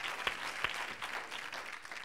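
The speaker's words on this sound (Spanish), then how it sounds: "Maruja, te merece un aplauso muy grande" TV studio audience on an interview programme gives a brief round of applause, fairly soft and distant, with a couple of sharper claps near the start before settling into a light steady patter.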